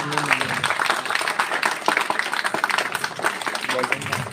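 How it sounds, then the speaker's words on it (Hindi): Applause from an audience at a school annual function, a dense crackle of clapping running throughout beneath a voice announcing names over a loudspeaker. "तालियां नहीं रुकनी चाहिए आपकी।"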